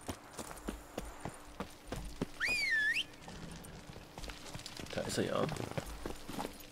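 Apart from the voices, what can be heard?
horse Roach's hooves while riding, video game Witcher 3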